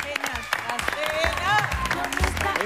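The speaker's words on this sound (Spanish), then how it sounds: "Nos despedimos con un fuerte aplauso, genios." Audience applause at the end of a Spanish-language TV game show segment, brief clapping mixed with loud voices and cheering talk over it.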